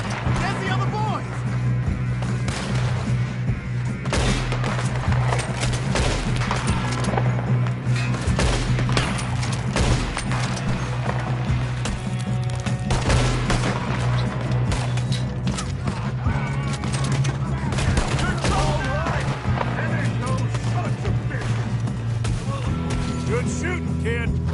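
Gunfire in Red Dead Redemption 2: a steady run of sharp shots and bursts over a constant low hum and background music, loud throughout, with speech-like voices mixed in.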